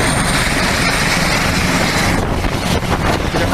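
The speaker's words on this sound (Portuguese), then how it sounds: "Em particular sobre um helicóptero, que é esse helicóptero que está aí." A military helicopter flies past, a loud continuous rotor drone with steady thudding, heard close and alone with no voices over it.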